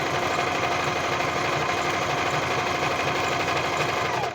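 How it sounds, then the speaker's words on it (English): Sewing machine stitching a pocket, running in a fast, even, continuous mechanical chatter at close range for the whole stretch, with no voices over it. "I'll just show you me sewing on this part of the pocket"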